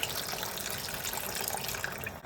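Water pours steadily from a measuring cup into a pot while making shrimp creole, about a cup's worth, a continuous close splashing trickle that stays even throughout.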